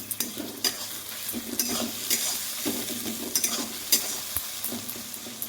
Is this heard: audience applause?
no